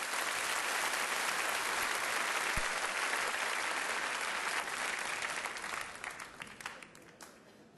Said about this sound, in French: Applaudissez Monsieur Ovidiotel.